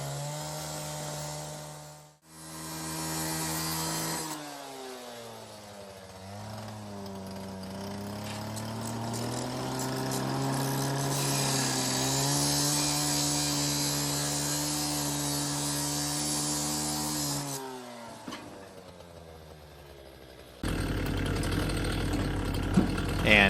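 A Stihl cutoff saw runs for a long stretch, its engine droning loud and close with rising and falling pitch as the blade works through a beam, then stopping before a different noisy burst.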